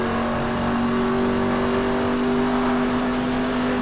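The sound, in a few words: car engine driving in video game Need for Speed Hot Pursuit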